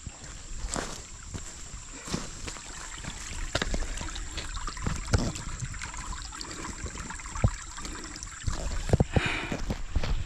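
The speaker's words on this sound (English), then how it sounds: "Small creek." A small creek runs through a cornfield ringed by mountains, giving a steady trickling, gurgling flow with a few sharp splashes and knocks, close by and moderately loud, with no talking over it.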